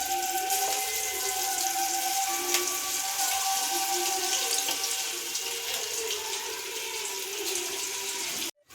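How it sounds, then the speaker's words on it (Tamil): Kunukku batter fries in hot oil on a medium flame, making a steady, dense sizzling hiss that continues without voices and cuts off abruptly just before the end. "இப்போ எண்ணெய் சூடாயிடுச்சு ஸ்டவ் வந்து நம்ம மீடியம் ஃப்ளேமுக்கு மாற்றிட்டு கொஞ்சம் கொஞ்சமாக கிள்ளி போட்டுக்கலாம்"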